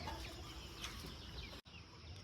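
Country chickens at an intercropped free-range poultry farm in Jalakandapuram, Salem, making soft clucks and rustling amid steady background noise, with a brief dropout near the end.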